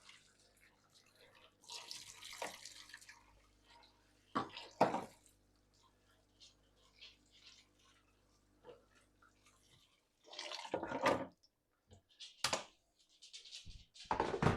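Boiling water is poured and splashes in a sink over dishwasher parts being cleaned, coming in several separate gushes with quiet gaps and small clinks between them, close by and fairly faint.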